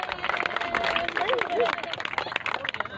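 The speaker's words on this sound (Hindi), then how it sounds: "भरपूर तालियां।" Crowd applause at a political rally, a dense, steady wash of clapping that carries on for about three seconds with voices mixed in throughout.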